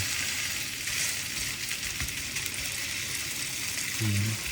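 A seared tuna steak sizzles in a hot pan, a dense, steady crackling hiss running without pause, with a short low voice-like murmur near the end.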